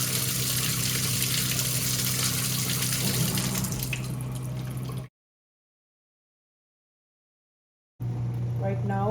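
Countertop dishwasher running and pumping water, a steady loud watery rush with a low hum, cutting to silence midway before the churning resumes.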